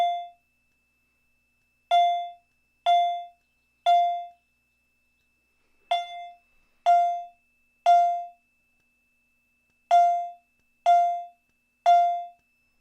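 A clear electronic fire alarm chime, volume turned up, rings out in separate tones during a system test, some spaced apart and some in quick runs of three, with silence between them.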